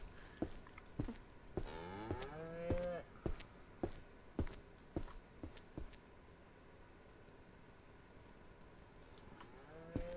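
Cattle in the Ranch Sim farm video game moo several times, long rising calls over a low background, with sharp clicks scattered throughout.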